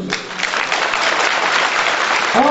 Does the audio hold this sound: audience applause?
yes